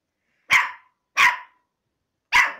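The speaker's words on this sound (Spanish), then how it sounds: "A ese es el que ladra tanto" A dog barks three times, sharp single barks spaced apart with silence between, close and loud, with no other sound around them.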